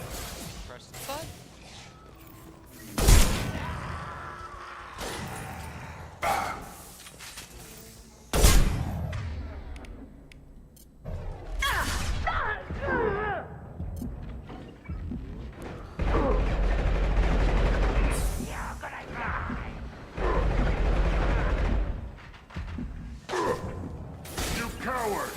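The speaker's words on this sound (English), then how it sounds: "Firing concussive shot!" Concussive shots and gunfire in the video game Mass Effect crack out as scattered sharp bursts with rushing whooshes and crashes, mixed with battle noise under frequent talk.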